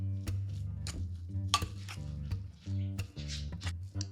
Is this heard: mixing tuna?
yes